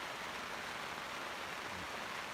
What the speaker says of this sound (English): I'm not going to do it now while it's raining